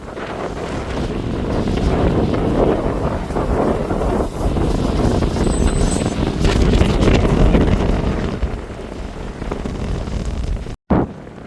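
Strong wind blows at Cape Soya in Japan, roaring and buffeting the microphone continuously and loudly with gusty surges, and cuts out for an instant near the end.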